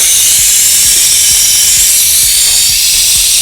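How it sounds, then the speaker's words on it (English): A pressure cooker vents steam after cooking beef tehari, giving a loud, continuous hiss close by with faint rattling ticks underneath, steady throughout with no voices. "I'm gonna release the pressure now."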